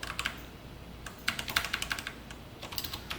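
Code is typed on a computer keyboard in quick bursts of light clicking keystrokes, close and fairly quiet, with short pauses between runs.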